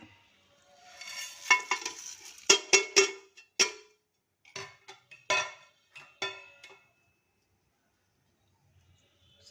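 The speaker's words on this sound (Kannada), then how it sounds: "ಇದೆಲ್ಲ ಸ್ವಲ್ಪ ಚಟಪಟ ಅಂತ ಸಿಡಿಲಿ." Mustard seeds, split chana and urad dal, fenugreek, cumin and curry leaves spluttering in hot oil for a South Indian tempering, heard as bursts of sharp crackling pops and sizzles close by, fading to quiet near the end.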